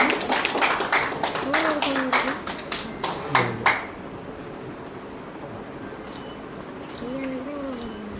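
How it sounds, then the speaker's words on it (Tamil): Scattered clapping from an audience at a large public ceremony in Kilinochchi honouring a five-year-old world-record girl, a few sharp claps up front over background murmur and a voice, then fading to quiet room tone with faint talk. "பலத்த கரகோஷங்கள்"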